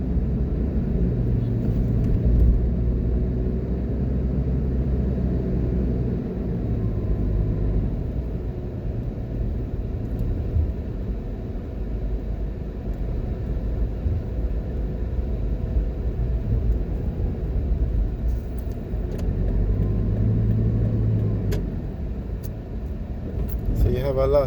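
Low, steady road rumble from inside a car driving through the residential streets of Ironshore in Montego Bay, Jamaica, a constant engine and tyre drone that swells slightly at times, with no clear talking.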